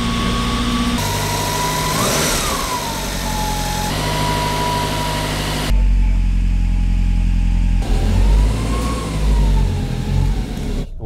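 A Lancia Delta Integrale Final Edition's engine drones while driving, with rising and falling revs through gear changes and a strong low rumble inside the cabin.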